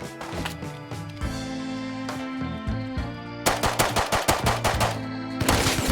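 Video game Rust gunfight: bursts of automatic weapon fire and single shots crack out, sparse at first, then a rapid close burst, loud with echoing tails.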